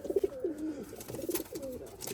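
A pigeon coos in short, soft rolling phrases, close by and fairly quiet, with faint background noise and no talk.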